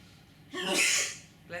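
A single sharp sneeze sounds close by, a quick indrawn breath and then a loud burst, with a brief breathy sound just after.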